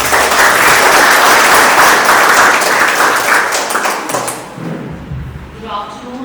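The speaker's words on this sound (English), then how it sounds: "Please put a big round of applause for ma'am." Loud audience applause at a career counselling seminar, dense clapping for about four seconds that fades out, followed by a voice speaking near a microphone with a few thumps.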